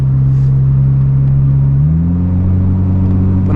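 A 1993 Honda Del Sol Si engine pulls under acceleration while driving, a loud steady drone with constant road rumble whose pitch shifts upward partway through as revs rise.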